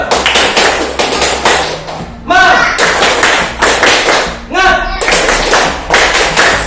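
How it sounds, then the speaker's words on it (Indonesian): A classroom group claps in quick rhythmic bursts of sharp hand claps, loud and close, broken twice by brief shouted voices. "Lah, tepuk tangan semangat lo."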